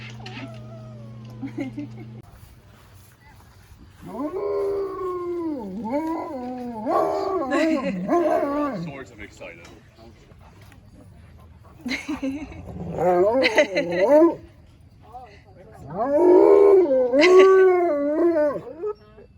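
Two wolf-Malamute hybrid dogs, half wolf and half Malamute, howl close by in long, wavering, rising and falling calls that come in several overlapping bursts. A person speaks briefly between the howls.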